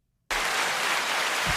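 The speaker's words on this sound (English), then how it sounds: "Clap louder." Hands clapping break in abruptly after a moment of silence, forming a dense, even wash of applause that sounds close and fairly loud, with a soft thump near the end.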